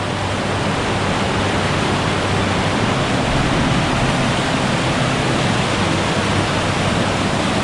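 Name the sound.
waterfall, strong water flow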